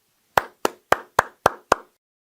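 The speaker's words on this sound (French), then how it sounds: "Veuillez accueillir le chef de tribu, Jae-Sang Lee, avec des applaudissements chaleureux" Six sharp, evenly spaced hand claps ring out close and clear, then stop into silence, as a welcome for the tribe leader Jae-Sang Lee before his talk on Revelation chapter 6.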